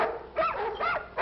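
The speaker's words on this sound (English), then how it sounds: "All night long, those dogs barking." Dogs barking in a 1950s sitcom neighborhood scene, three quick barks in close succession, fairly near, with no talking.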